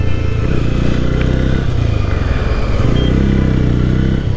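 A new Yamaha FZS-v3 or Bajaj Pulsar N160 motorcycle being ridden, engine droning loud and continuous at close range with wind rush throughout, no break in the sound.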